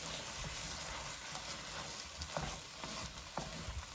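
Beef short rib bolognese sizzling in a pan while being stirred, a steady close frying hiss broken by scraping spoon strokes and small pops.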